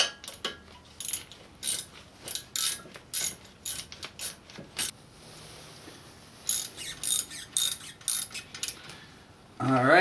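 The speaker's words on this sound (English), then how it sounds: "Get our ratchet on it again." A ratchet wrench tightening a brake caliper bolt on an Audi A4 during a brake pad change, giving quick bursts of close, sharp ratcheting clicks separated by short pauses, with a few longer runs of clicking.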